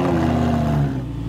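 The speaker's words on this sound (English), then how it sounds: "right when I start the car, it should sound like it's farting" Lamborghini engine starting with a cut exhaust, a low, loud, sputtering rumble with a rough flatulent burble that settles into a steady idle.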